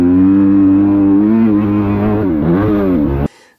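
A track-day motorcycle at the MC Etangs circuit, running a worn rear tire, revs loudly and steadily with a strong harmonic engine tone that wavers near the end before cutting off abruptly.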